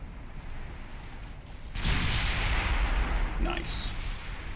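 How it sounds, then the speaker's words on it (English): Fifteen-inch naval guns of a Super Nelson-class battleship fire in Ultimate Admiral Dreadnoughts, a deep booming salvo rolling in after a quiet stretch, followed by lighter clicks and crackles, with faint game ambience behind. "Just with the 15-inch guns at the moment."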